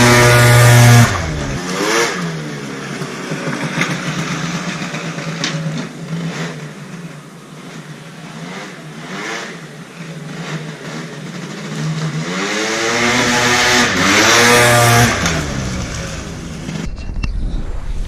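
A tuned 50cc SR scooter engine with a Sito exhaust revs up and down repeatedly, the two-stroke whine rising and falling through several loud sweeps, close by and alone.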